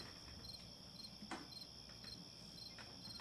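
Crickets chirp steadily in a quiet outdoor night, with a high, regular trilling that repeats throughout at low volume.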